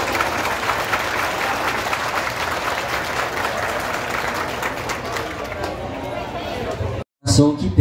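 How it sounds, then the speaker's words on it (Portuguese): A large crowd applauds steadily and densely at an outdoor town-square festival in Tiros, Minas Gerais, sustained for several seconds before cutting off abruptly, with a brief burst of sound after the cut. "Aplausos, povo presente."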